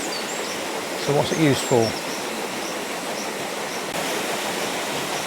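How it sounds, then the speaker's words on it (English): The newest water wheel at Cromford Mills turns with a steady, loud rush of falling water that fills the whole clip, while a person briefly speaks over it. "So this is actually the newest water wheel at Cromford Mills."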